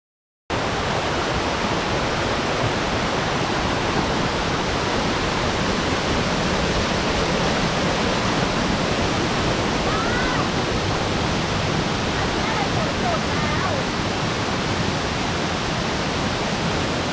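Steady, loud rush of a limestone waterfall, Pha Tat Falls in Khao Laem National Park, pouring continuously, a dense roar of falling water filling the whole clip with no voices.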